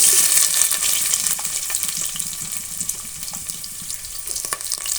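Onion fries in hot oil with cinnamon, cloves and bay leaves for bread pulao, a steady close sizzle with faint stirring scrapes, fading slightly toward the end.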